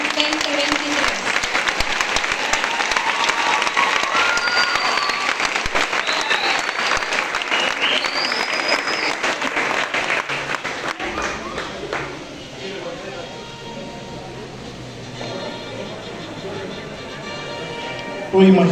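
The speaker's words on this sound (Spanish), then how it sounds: "Démosle un fuerte aplauso a la promoción 2023" Loud applause at a school graduation ceremony for the class of 2023, dense clapping filling the first half before thinning to a quieter room with scattered sounds and murmuring voices.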